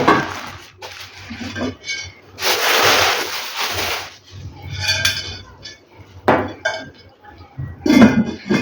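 Heavy cast iron and stainless steel pots and pans are handled in a home kitchen, giving repeated metallic clanks and knocks at close range, with someone talking between them.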